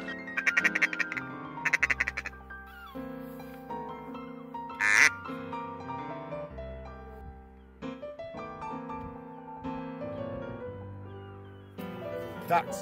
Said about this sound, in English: Ducks, ducks.